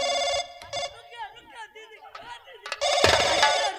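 A telephone rings with a loud, bright electronic ringtone in two bursts, first at the start and then again near the end, while voices talk in between.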